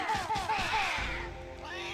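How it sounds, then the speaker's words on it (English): Enemies in the Banjo-Tooie video game give a burst of cartoonish screaming meows as they are struck, several short yowls in quick succession over a thud, then a low rumble, loud and close. "I love these guys just screaming with their meows as you hit them."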